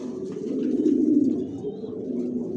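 Racing pigeons, Johnson red checker racers, coo softly in a loft, giving low, throaty, rolling coos close by, rising and falling over a couple of seconds.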